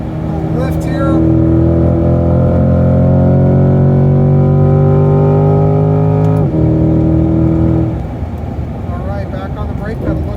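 Chevrolet C8 Corvette engine on a race track droning loudly at high revs, then dropping sharply with a downshift blip, while a driver talks throughout.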